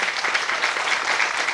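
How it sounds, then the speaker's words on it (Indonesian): Dense, steady applause from a large gathered audience at a religious talk, continuous and loud with no breaks or voices standing out. "Tepuk tangan dulu."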